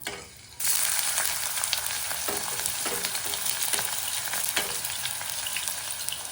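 Mustard seeds are tossed into already heated oil, and a dense, steady crackling sizzle starts up abruptly after a quiet moment, staying loud and close with scattered popping bursts throughout and no talking.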